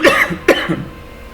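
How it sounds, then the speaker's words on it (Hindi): A person coughs twice in quick succession, close and loud, the short harsh bursts followed by a brief throaty trailing sound, indoors with no talking. "खांसी आ जाती है"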